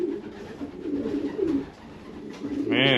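A pigeon hen coos in low, soft, repeated throaty phrases close by, with a brief brighter sound cutting in near the end.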